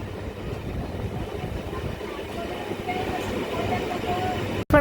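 Train rolling slowly through forest on the Dooars route, a steady low rumble and faint rail clatter heard from nearby, with a brief dropout and knock at the very end.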